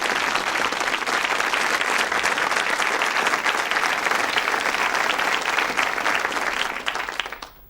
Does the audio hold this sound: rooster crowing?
no